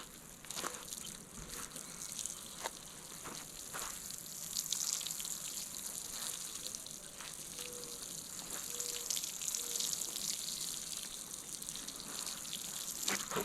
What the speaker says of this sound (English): I get some water from the goldfish pond